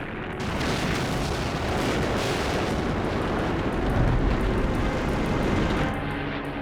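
An air raid on a wartime RAF airfield is rendered as a continuous loud, dense roar of bomb explosions that rumbles without letup, cutting off abruptly at the end.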